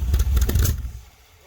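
A 1970s street van's engine, fitted with a Street Demon carburetor, cranks and briefly catches with a loud, rough clattering burst, then dies away into near silence within about a second.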